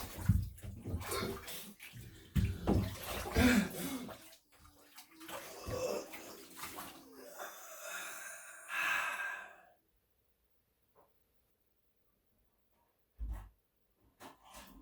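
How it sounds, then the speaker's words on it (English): Water sloshes and splashes in an ice bath as someone climbs in, with sharp breaths and sighs, then the movement stops and it falls nearly silent apart from a couple of soft later shifts. "Ice bath. It's gonna be cold."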